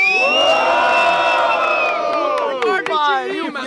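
A crowd at a student rap battle in Brazil cheers, whoops and shouts loudly and continuously, with overlapping high yells and a few sharp claps near the end.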